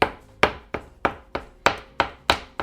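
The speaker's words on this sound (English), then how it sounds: "I'm just gonna slice this into small chunks, kind of like chopping an onion." A knife chopping food into small chunks on a cutting board while making homemade beef ravioli: eight sharp, evenly spaced thunks, close and loud, with no talk.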